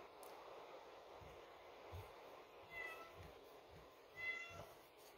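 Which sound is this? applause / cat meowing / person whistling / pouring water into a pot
cat meowing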